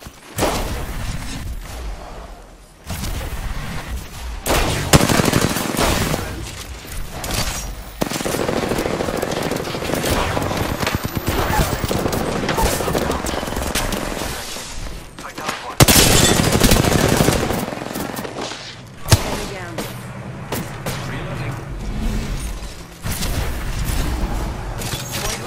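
Rapid video game gunfire with bursts of automatic fire and occasional booms, loud and continuous across most of the stretch, with brief lulls between volleys.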